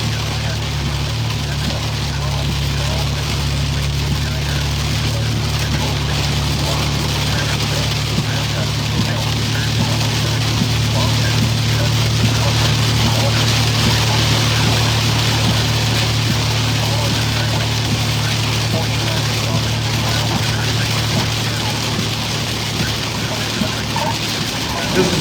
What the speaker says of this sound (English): Heavy rain in Charleston.